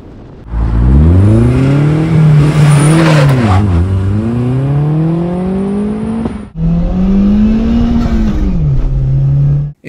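A 1997 Toyota RAV4 swapped with a 3S-GTE engine accelerates at full throttle, its loud, close engine note climbing steadily through the revs, briefly dipping on a gear change and then rising again.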